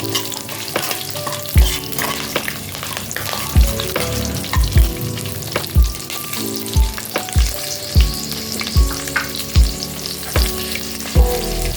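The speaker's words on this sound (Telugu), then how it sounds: "ఐదు నిమిషాలు వేగాక పచ్చిమిర్చి వేసి వేయించుకోవాలి." Green chilies fry in hot oil for Hyderabadi bagara rice, giving a steady close sizzle punctuated by regular knocks of a spoon or spatula stirring the pan, with no talk.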